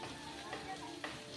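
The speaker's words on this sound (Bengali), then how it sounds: "পেঁয়াজগুলো একটু ভালো করে নেড়ে চেড়ে নেব।" Onions sizzle in hot oil in a pan while a utensil stirs them, with soft scraping over a steady frying hiss.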